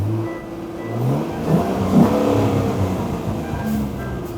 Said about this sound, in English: Listen to the sound of that V6 Cyclone.